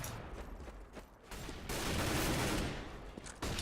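Gunfire rings out during a first-person shooter match: rapid bursts and a sustained volley of shots, moderately loud, rising to a dense stretch of firing near the middle.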